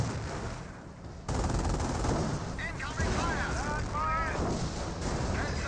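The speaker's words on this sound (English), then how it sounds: "Anti-gun's firing away." Anti-tank gun firing during a Company of Heroes battle, heavy shots and distant gunfire under a caster's running commentary.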